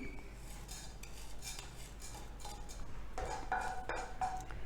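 Spices such as fenugreek, cumin, urad dal, chana dal and coriander roast in a little oil in a pan, with a quiet continuous sizzle and soft scraping and clinking of a spoon against the pan.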